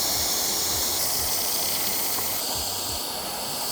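Steamer hissing steadily against vinyl wrap being stripped from a car, a continuous broadband spray of steam lasting throughout with no talk.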